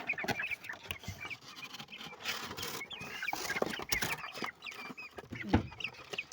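Chicken chicks bought for ten taka each and loaded into a vehicle: soft, scattered peeping and cheeping from many chicks, faint and close, with light rustling and pattering among them.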